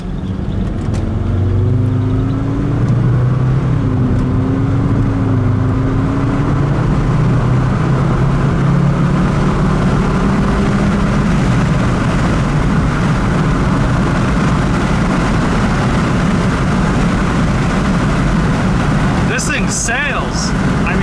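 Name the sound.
Volvo V70R wagon accelerating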